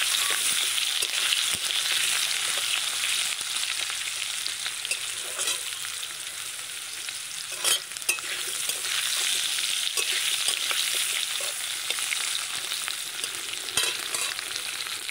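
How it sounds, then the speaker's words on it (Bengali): Thin potato slices sizzle steadily in hot oil tempered with cumin seeds, a close, continuous frying hiss broken by occasional stirring scrapes. "এই আলুগুলোকে একটু হালকা ভেজে নেব"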